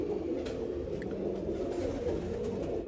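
Soft, low pigeon cooing rumbles steadily through a dense, noisy background, with no clear pauses across the short stretch.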